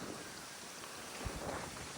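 Steady wind blowing across the microphone, a broad rushing noise with a brief low thump partway through; no one speaks.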